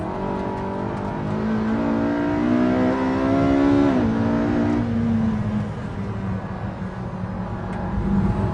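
A sports car, compared against the Ferrari F12, accelerating hard out of a corner on track, its engine note rising loud and close in a long climbing pull, then briefly dipping before rising again.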